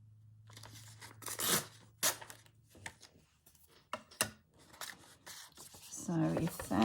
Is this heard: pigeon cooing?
no